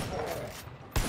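Gunfire in the zombie mode of the game Far Cry 5, a dense close burst of shooting with a heavy blast near the end, under a speaking voice.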